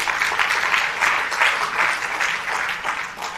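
Conference audience clapping steadily through the whole stretch, a dense continuous patter of hands in a hall, moderately loud with no talk over it.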